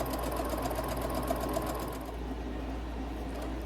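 A sewing machine back-stitches and then runs forward along a window covering, a fast steady close-up whir with a faint rhythmic ticking that settles slightly after a couple of seconds.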